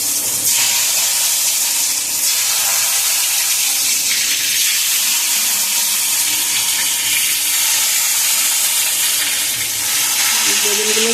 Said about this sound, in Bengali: তেল গরম হয়ে গেলে আস্তে আস্তে করে তেলে একটা একটা ছেড়ে দেবো একটা একটা করে বেগুন ছেড়ে দিলাম